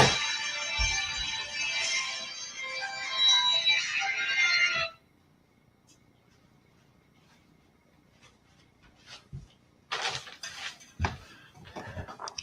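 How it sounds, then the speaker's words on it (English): A phone rings with an incoming call, a bright repeating electronic tone that stops abruptly, followed by quiet room noise and a few soft knocks and handling sounds. "let me extinguish this phone call."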